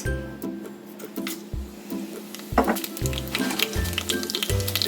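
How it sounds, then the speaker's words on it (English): Whole garam masala spices crackling and sizzling in a few tablespoons of hot oil for a goat mutton curry, with a soft steady hiss and brief pops, close by and alone. "Now I am going to add whole garam masalas."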